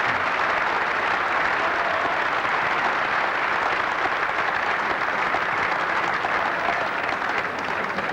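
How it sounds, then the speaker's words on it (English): Snooker crowd at the 1980 UK Championship applauding a break, dense and sustained clapping from the whole audience that stays loud and even for the full eight seconds. "very interesting to see Alex applauding the break"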